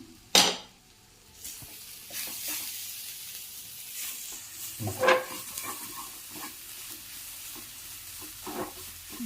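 Sweet leaf (madhuracheera) thoran is stirred in a pan: a sharp metallic clank of utensil on pan, then soft sizzling and repeated scraping and tapping strokes at close range.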